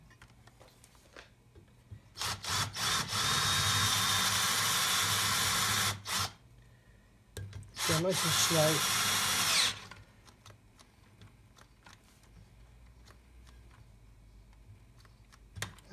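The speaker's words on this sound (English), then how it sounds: "And then we try the bigger drill now" A cordless drill with a three-fluted bit bores into cast steel in two loud, steady whining bursts separated by a pause, with light handling clicks around them and a brief spoken remark.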